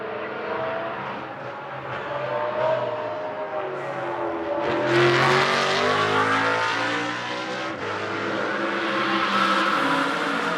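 A GT race car, number 77, passes during Blancpain Sprint Series free practice in Moscow, its engine note rising sharply as it nears, shifting pitch and fading away. Further engine sound carries on in the distance.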